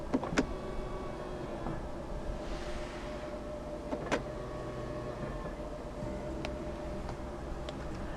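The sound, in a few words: Volvo XC60 power folding side mirrors folding in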